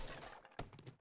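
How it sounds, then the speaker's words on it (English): In the survival game 7 Days to Die, a door is smashed with a single heavy crunching impact that breaks through a low background rumble, followed by a few fainter knocks. "okay, now I'm smashing the door."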